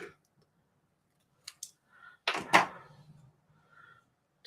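Trimming with scissors: a few quiet, close snips and clicks, with a clustered burst in the middle and faint handling sounds in between.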